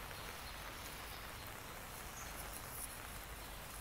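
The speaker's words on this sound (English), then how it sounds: "I don't know how long we'll be staying out in the rain for." Steady rain falls on foliage and surfaces in a botanical garden, a soft continuous hiss heard from close by with no talk.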